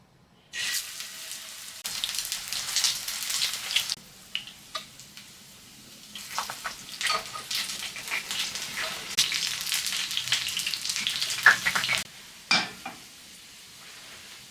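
Flattened Danish fish cakes fry in a hot pan with a steady, close sizzle, broken by bursts of stirring and scraping and short pauses; no one talks.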